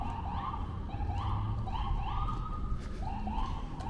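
Ambulance siren wails on a Brooklyn street, a repeating rising-and-falling tone over steady traffic rumble, moderately distant and continuous.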